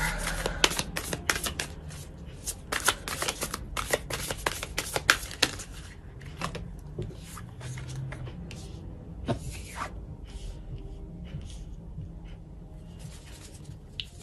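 Tarot cards are shuffled near at hand in rapid, crisp riffling and slapping bursts that thin out into sparser soft card flicks and taps.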